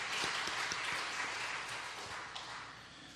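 A church congregation at a Daejeon Presbyterian service gives a round of applause to encourage a missionary serving in Cambodia. The clapping is dense and steady, filling the room for several seconds before gradually easing off, with no voices over it.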